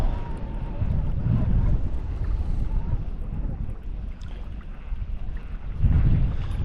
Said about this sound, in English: Wind's getting gnarly.